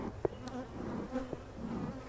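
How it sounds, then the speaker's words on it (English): Honey bees buzzing around a hive during a mid-summer hive inspection, a soft steady drone of many wings with individual bees zipping close past now and then. "They've got tons of bees."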